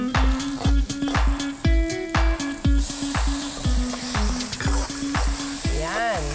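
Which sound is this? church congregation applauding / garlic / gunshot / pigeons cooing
garlic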